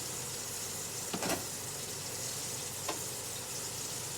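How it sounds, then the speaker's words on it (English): Oil heating in a pan on a stove before frying shrimp: a steady, close sizzling hiss throughout, broken by a couple of faint knocks. "We're gonna get the oil up to temperature for the shrimp."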